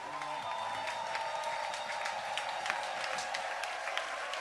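A church congregation claps and cheers to praise the Lord during a sermon, a steady dense wash of applause with scattered sharper claps throughout, fairly even in loudness and with no talk over it.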